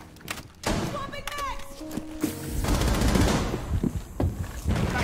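Bursts of gunfire in a PC shooter game, rapid cracks and heavy thumps stacked over one another, with people talking excitedly over the action.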